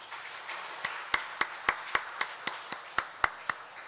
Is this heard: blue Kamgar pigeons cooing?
no